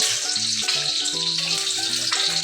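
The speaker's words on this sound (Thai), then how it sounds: "ทอดไข่ดาวกันเลยครับผม" Two eggs fry in hot oil in a pan for Thai fried eggs served with beef kaprao. There is a steady, loud crackling sizzle with no pause.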